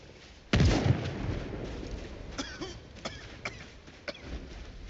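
A loud video game shotgun blast booms once up close and is followed by a rumbling tail and a few smaller, sharper reports further off.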